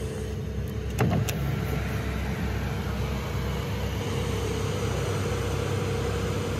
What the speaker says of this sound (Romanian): Și să dau și geamurile jos.